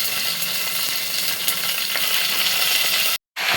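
Chopped ash gourd fries with cumin and bay leaf in a pressure cooker, giving a loud, steady hiss and sizzle close by that cuts out abruptly for a moment near the end.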